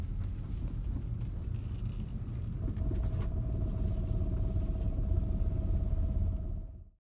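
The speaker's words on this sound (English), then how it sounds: "That noise on the full turns means your differential fluid needs to be changed." A Honda CR-V or Element four-wheel-drive differential groans on full turns, heard as a steady low rumble and drone under the running engine, with a faint whine joining partway through before it cuts off.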